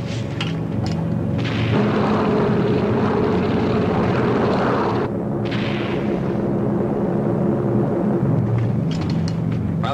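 Propeller engines of P-38 fighter planes drone loudly and continuously, a dense roar with a steady low hum that shifts slightly in intensity, alone without speech.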